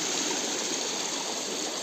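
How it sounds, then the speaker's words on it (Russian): Rushing water pours steadily into a trout pond at a trout farm, a continuous broad splashing flow heard up close with no voices. "Вот вода поступает отсюда."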